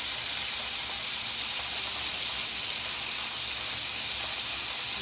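Chicken wings fry in hot oil for buffalo wings, giving a steady, loud, bright sizzling hiss that stays even throughout with no talking.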